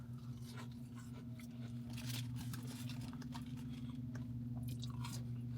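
Crisp, close crunching and chewing of salted Burger King onion rings continues over a steady low hum. No one speaks.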